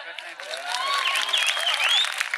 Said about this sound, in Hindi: तो एक बार खुल के तालियां हो जाए